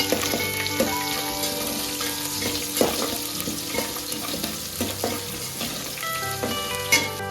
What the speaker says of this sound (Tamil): வெங்காயம் ஓரளவுக்கு வதங்கிடுச்சு